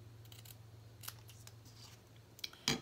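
Scissors trimming the end of a ribbon knot, a couple of faint close snips ending in one sharp, crisp cut over a quiet hum.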